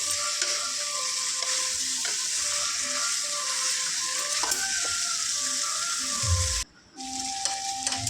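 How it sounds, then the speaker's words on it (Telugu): Chicken pieces sizzle steadily in a pan for a village-style chicken sorva. The frying is close and continuous, with occasional clinks of stirring and a brief dip in the sound near the end. "ఈ విధంగా కలర్ వచ్చే వరకు ఫ్రై చేసుకోవాలి పీస్ అనేది ఈ కలర్కి వచ్చే వరకు చక్కగా ఫ్రై చేసుకోండి"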